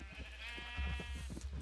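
Sheep bleating in Minecraft, a few short wavering bleats close by over a low steady hum, with no talk.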